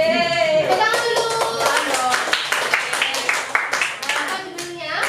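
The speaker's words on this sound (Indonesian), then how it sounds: "Tepuk tangan dulu." A group of schoolchildren clapping their hands together in a classroom, a quick run of close, fairly loud claps over several seconds with children's voices mixed in.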